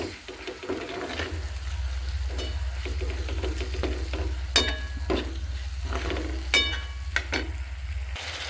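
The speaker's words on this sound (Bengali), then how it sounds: "হালকা নাড়াচাড়া করে একটু গরম জল দিয়ে কষে নেবো মশলাটা" Spice masala stirred and fried in a pan with a splash of hot water for a potato chicken curry, giving a continuous close sizzle under a low hum, with regular scraping and clinking strokes of the spatula.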